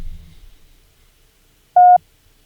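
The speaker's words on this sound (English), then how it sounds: "That's a T." One short, clean Morse code tone for the letter T, a single steady beep sounding alone after a brief moment of quiet.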